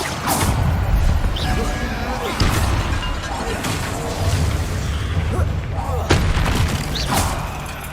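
A Bombarda blasting spell fires in a wizard video game. It lands as several heavy booms and crashes, spaced a second or more apart, over a busy bed of game effects and faint voices.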